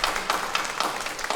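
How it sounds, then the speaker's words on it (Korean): A church congregation at a Sunday service claps in welcome for a visiting couple, with a short burst of brisk, even applause from the room. "우리 박수로 환영하겠습니다"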